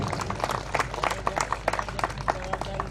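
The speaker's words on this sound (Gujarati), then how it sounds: "બધા તાળીઓથી આપણે ખૂબ ખૂબ એમનું અભિવાદન કરીશું" An audience at an evening Swaminarayan temple assembly in Sujanpur applauds to honour a guest, a dense, steady patter of many hands clapping at once in a reverberant hall.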